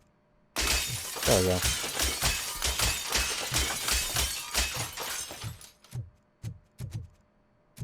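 Glass shatters repeatedly in the video game RoboCop: Rogue City, a dense burst of breaking panes and tinkling shards lasting several seconds, then scattered smaller crashes, with someone talking over it.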